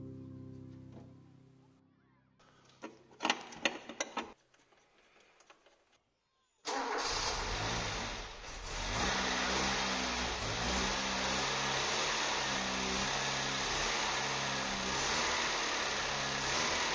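After a few quiet workshop clanks, a Citroën BX engine cranks and fires during a thermostat replacement, then settles into a steady, close, continuous idle.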